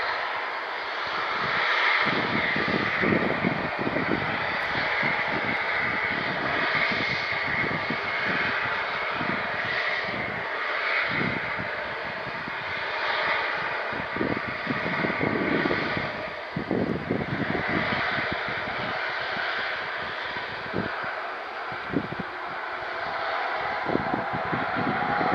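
An Embraer airliner taxis at Manchester Airport, its jet engines a steady broad roar with a fluctuating whine, heard from a distance against wind buffeting the microphone throughout.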